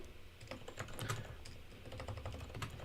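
A computer keyboard clatters with quick, uneven runs of keystrokes as a prompt is typed, close and fairly quiet, with no talking.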